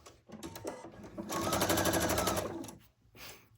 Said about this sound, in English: Okay, now I'm gonna sew these together.